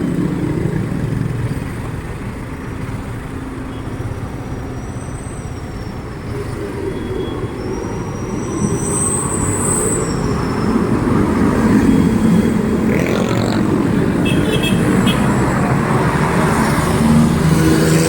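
Steady, loud road traffic on Aguinaldo Highway heading toward Tagaytay in the evening, with a continuous rumble of passing cars and engines, close by and unbroken.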